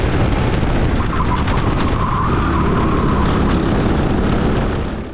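A go-kart engine sits at high revs as it powers out early from banked turn 1. The roar is loud, close and continuous, with a whining tone rising over the steady drone and no talk.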